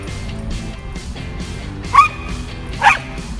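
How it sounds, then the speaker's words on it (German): A Rottweiler and a mixed-breed dog playing together, giving two short sharp yipping barks about a second apart over a low background rumble, fairly close. "Die Hunde spielen miteinander."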